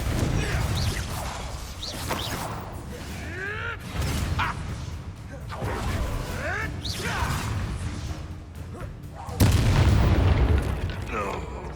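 Spell blasts in Hogwarts Legacy: repeated booms, crashes and whooshing impacts in bursts, with a voice shouting incantations between them.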